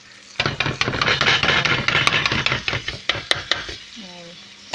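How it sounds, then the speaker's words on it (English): Ground beef being broken apart and chopped in a pan with a utensil gives a rapid run of sharp clatters and scrapes over a soft sizzle, close and busy, then thins out near the end. "I've started breaking off the pieces of ground beef and chopping them up"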